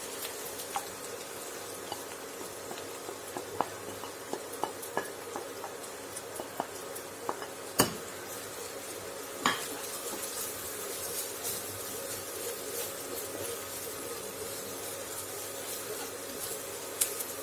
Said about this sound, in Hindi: हम इसमें ये पिसे हुए मसाले डालेंगे